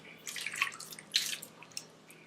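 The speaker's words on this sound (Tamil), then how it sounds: "கொஞ்சமாக தண்ணி ஊற்றினா போதும்." Faint splashing of a small amount of water poured into a pressure cooker over vegetables and beans, arriving in a few short uneven bursts with no voices.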